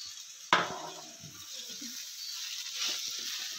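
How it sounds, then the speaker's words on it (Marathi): Mashed potatoes are stirred in a pan on the stove with a spoon. A sharp clank against the pan opens the sound, followed by soft, steady scraping and a faint sizzle. "मिक्स करून घेऊया असं"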